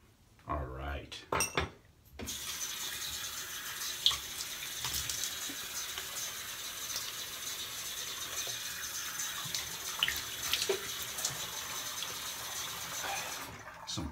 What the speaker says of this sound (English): Some cold water wash, rinse.